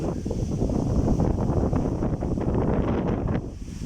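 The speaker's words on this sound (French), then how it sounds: "Et là, on a le vent qui souffle." Steady wind blowing outdoors near old town ramparts, a loud, continuous broadband rush with gusty fluctuations and no speech over it.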